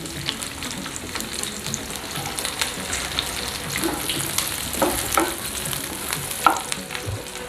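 Sliced onions with ginger and garlic shallow frying in a pan, a steady close sizzle with scattered stirring scrapes and pops, no talking.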